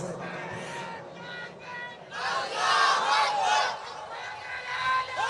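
A crowd at a Bengali waz gathering roars a chant in unison, starting with scattered voices and swelling into a loud, massed shout that rises and falls over a couple of seconds before trailing off.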